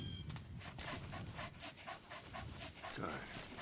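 A dog pants in Metal Gear Solid V, quick rhythmic breaths repeating steadily and close by over a muffled low background, ending with a brief rising whine.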